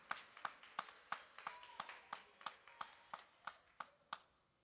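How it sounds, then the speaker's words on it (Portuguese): A church congregation clapping for Jesus in slow, even unison beats, about fourteen sharp claps in a steady rhythm, faint and somewhat distant with no talk over it. "Isso, aplaude Jesus."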